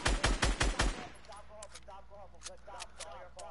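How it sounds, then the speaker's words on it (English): Fortnite video game gunfire, a rapid burst of about six loud shots at the start, then fainter scattered shots and clatter while a voice talks. "And there's shots at Matt"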